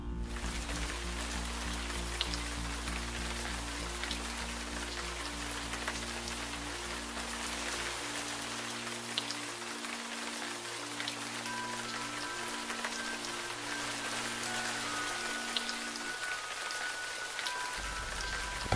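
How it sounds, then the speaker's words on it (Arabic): Steady hiss of running water, like a shower spraying continuously, with a low droning hum underneath that cuts out partway through. "واذا بصوت الدش يشتغل تاني"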